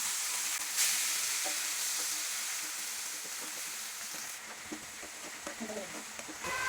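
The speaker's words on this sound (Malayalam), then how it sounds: "കറി കൂടെ നമുക്ക് ഇതിലേക്ക് തട്ടിട്ട് നല്ലോണം വഴറ്റിയെടുക്കണം" Prawn curry mixture sautéing in hot oil in a home kitchen, a steady close sizzle and frying hiss with intermittent stirring scrapes and clinks running throughout.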